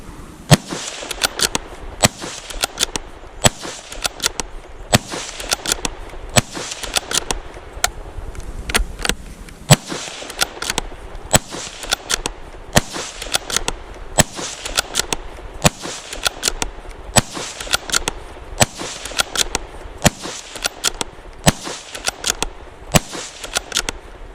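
A rifle fires 22 WMR rounds from a 25-round VP-25M magazine in a fast, irregular string of sharp cracks, many shots in close succession across the clip with a brief pause partway through.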